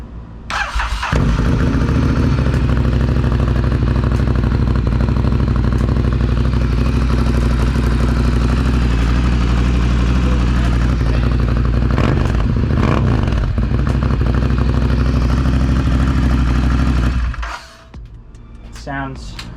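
A rebuilt motorcycle engine with a slip-on exhaust starts up and runs loud and close for a long stretch, a steady throaty idle with some clatter before it cuts off near the end.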